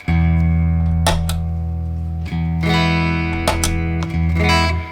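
A sustained electric guitar tone from a Telecaster through a Kingsley Page tube boost pedal into a Two-Rock amp, thick and slightly driven, rings continuously, with a few picked accents and chord changes, loud and up close.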